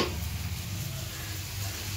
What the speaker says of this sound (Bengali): তাই পেঁয়াজ রসুন ভাজছি।